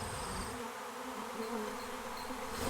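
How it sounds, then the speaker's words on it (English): Honeybees buzz steadily at the hive, a dense, continuous hum of many insects that is fairly faint and close, with no speech. "the bees started coming out of the hive very,"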